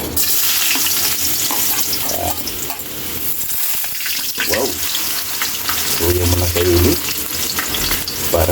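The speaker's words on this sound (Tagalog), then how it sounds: "Pero Kylie, nagpapainit na yung mantika" Ginger sizzles and fries in hot oil as the sauté base for Filipino batchoy, with a steady crackle, occasional stirring scrapes and faint kitchen clatter throughout.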